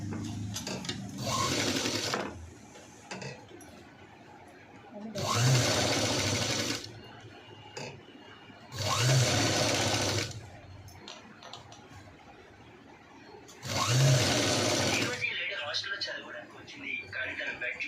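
A sewing machine stitches the princess-cut front of a V-neck blouse, running in four steady whirring bursts of about two seconds each, with quiet handling and pauses between them.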